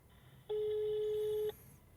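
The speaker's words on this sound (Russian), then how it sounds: "Давайте позвоним ему и скажем, что мы приехали." A telephone tone sounds on a call being placed, one steady electronic beep lasting about a second, clear and fairly loud over a quiet background with no talk.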